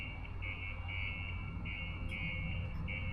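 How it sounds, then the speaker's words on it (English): Alarm sounding in a pulsing on-off pattern of steady high beeps, fairly faint and distant over low background rumble. "Sounds like an alarm"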